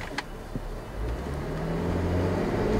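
A Dodge Charger Scat Pack widebody's engine rises from a low idle into a steady, loud rev that builds and holds close by, with a brief knock near the start and no voices.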